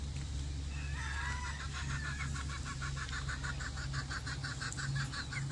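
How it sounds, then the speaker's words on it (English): Wild chickens with chicks clucking in the Virgin Islands, a rapid run of repeated clucks and calls over a steady low hum, fairly close and moderately loud. "There's some wild chickens with babies."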